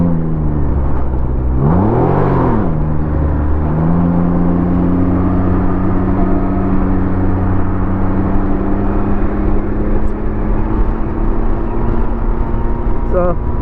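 A Can-Am Ryker three-wheeled motorcycle on the road, its engine droning loud and steady with a rising rev and shift near the start, then a constant cruising hum mixed with wind rush.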